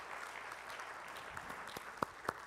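Faint, steady applause from an audience at a public meeting on TIF in Ashland, Nebraska, a low continuous patter with a couple of sharper claps near the end.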